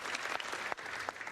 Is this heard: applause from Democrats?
yes